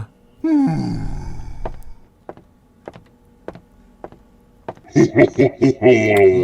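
A low, drawn-out groan from the Chester doll in the horror game Emily Wants To Play, rising at the start and fading, followed by sparse knocks and then a burst of voice-like moans and talk near the end.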